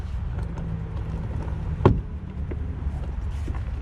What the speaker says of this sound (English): you can hear the clips unclipping